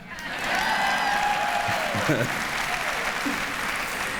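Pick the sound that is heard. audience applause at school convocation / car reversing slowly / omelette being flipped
audience applause at school convocation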